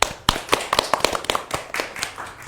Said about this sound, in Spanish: También le damos un fuerte aplauso a nuestra invitada.